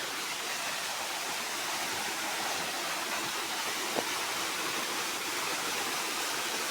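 Water falls at Kolhewajra, a dense, steady broadband rush that stays constant and fairly loud throughout, with no voices over it.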